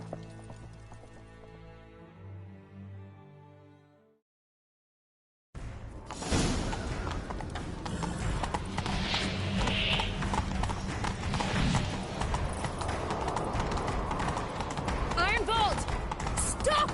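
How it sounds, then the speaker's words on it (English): Horse hoofbeats at a gallop in the video game The Witcher 3: Wild Hunt, following a burst of music and a brief silence, then a steady loud clatter with wind and game ambience layered over it. "Grab a horse, we'll chase him down."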